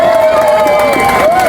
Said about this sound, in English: Let's get a huge round of applause for Senator Edwards